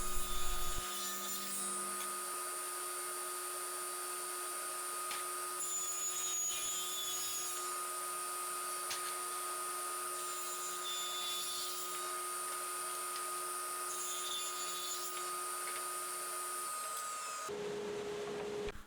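Saw cutting a kerf a couple of blades wide into a wood panel for a kinetic cabinet, a steady whirring, rasping drone with small shifts as the cut moves, then a sudden stop near the end.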